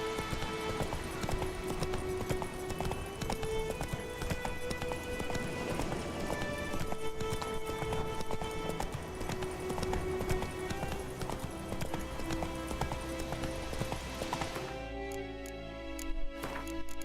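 Horse hooves galloping in the video game Witcher 3, a steady clip-clop rhythm running throughout over game music, cutting off near the end.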